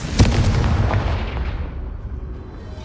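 A Confringo fire spell from the Hogwarts Legacy video game bursts with a sharp, loud explosive crack up close, followed by a rumbling low tail that slowly fades.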